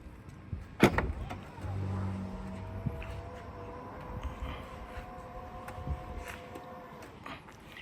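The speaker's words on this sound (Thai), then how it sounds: "ระบบเซ็นเซอร์เท้าเตะ สามารถสั่งเตะเปิด" Electric power tailgate on a Volvo V60 opened by the foot kick sensor, a sharp click followed by a steady motor whine as the gate rises for several seconds, fairly faint with no talk.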